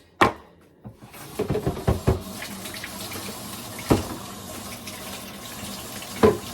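Water running into a mini washing machine as it is rinsed out, with a few sharp knocks and clatters of plastic early on and again later, over a steady background trickle.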